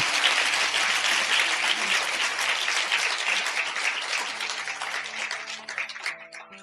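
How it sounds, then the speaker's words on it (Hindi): A church congregation at a Sunday service claps loudly in praise of God, dense sustained applause that thins and tapers toward the end. "एक बार परमेश्वर के लिए जोरदार ताली बजा के प्रभु को धन्यवाद देंगे।"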